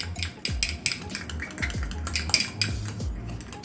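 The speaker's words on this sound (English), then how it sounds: "we're just going to stir this. This is our slurry" A spoon or whisk scrapes and clinks against a bowl as a cornstarch slurry is stirred for a sweet and spicy chicken stir-fry sauce, giving quick, close, repeated metallic taps and swirls.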